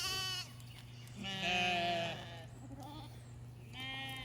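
Sheep and lambs on a farm, being let out onto grass, bleat in several loud, drawn-out calls close by, one after another, with a faint steady hum underneath.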